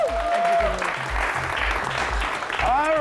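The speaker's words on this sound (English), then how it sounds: "A round of applause because ukugcina for sisters." A crowd claps in a round of applause on a youth talk show set, steady dense clapping throughout with a voice and tonal sounds over it.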